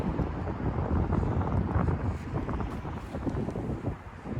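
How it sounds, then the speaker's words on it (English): Wind buffets a microphone outdoors beside a parked 2022 Tesla Model S Long Range, a steady low rumbling roar with gusty fluctuations and no voices. "And please excuse the wind."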